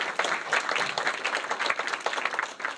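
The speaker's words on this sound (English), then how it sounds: "round of applause for NJIT" A crowd at an evening health technology event in New York City applauds a sponsoring university, with brisk, dense clapping from a modest audience, close and lively, pulsing unevenly throughout.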